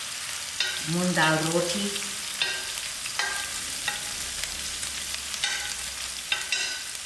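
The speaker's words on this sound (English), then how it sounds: "Allow the onions to fry out." Onions frying in a pan for a moong dal curry give a steady sizzle through most of the stretch, with a voice speaking over it for a short while.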